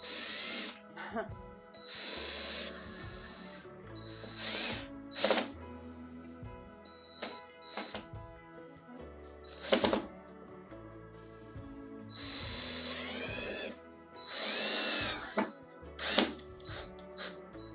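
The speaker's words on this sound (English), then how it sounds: "we're gonna go ahead and drill in our first bracket" A power drill whirs in several short bursts close by, drilling a bracket into a bathroom wall, with brief pauses and clicks between them, and a person speaks now and then.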